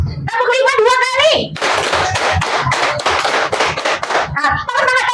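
A classroom of children claps out a rhythmic pattern, sharp grouped claps in quick bursts, with a voice calling out between rounds.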